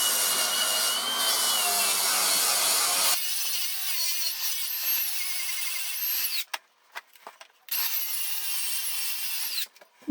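A wire wheel scrubs a Ridgid tri-stand pipe vise clean before welding: a loud, harsh abrasive grinding for about three seconds, then a lighter, steadier whirring contact with brief pauses and restarts.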